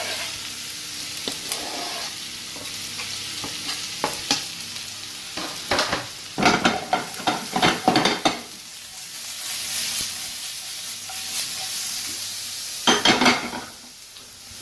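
Chopped onions frying in a hot pan, a steady sizzle broken by bursts of stirring and scraping of a utensil against the pan, near and fairly loud, with no talk.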